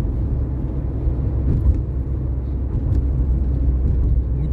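Steady low road rumble of cars passing on a busy coastal road and bridge in Natal, recorded from inside a moving car with a dashcam, continuous and fairly loud with no talk.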